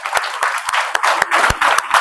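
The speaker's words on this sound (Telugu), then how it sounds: "అందుకని ఆ గురువులు అందరికీ ఒకసారి చప్పట్లు కొడదాం." A classroom of students claps together at a school meditation session, a loud, steady burst of group applause lasting throughout, with a few sharper individual claps standing out.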